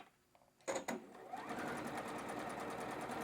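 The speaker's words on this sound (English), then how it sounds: "sewing into all of the work, following that chalk line as a 1/4 inch guideline" Chain piecing fabric along a chalk line, a sewing machine starts after a couple of clicks and settles into a fast, steady, close whir of rapid stitching.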